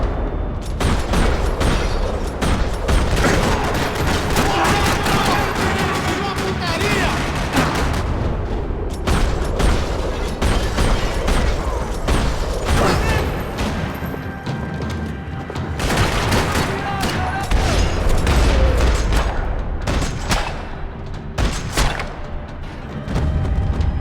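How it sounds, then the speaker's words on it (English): Sustained, loud gunfire fills a parking lot shootout in the video game Max Payne 3, with dense rattling bursts, heavy booms and thuds overlapping almost continuously throughout, with no let-up. "Another parking lot rattling with gunfire."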